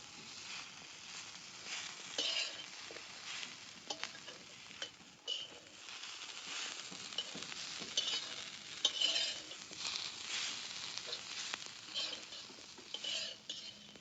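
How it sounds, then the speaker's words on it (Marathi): Coriander and grated coconut roast in a pan outdoors, making a faint dry crackle with intermittent scraping and stirring taps, quiet and close. "कोथमिरी ती जरा त्याच्यात भाजून घेणार आहे."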